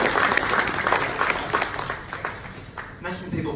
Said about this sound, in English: Jara, round of applause